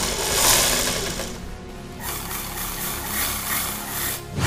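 Sewing machine stitching the seams of bell bottom trousers, a steady continuous whirring hum running alone throughout at close range, with a short dip in the middle.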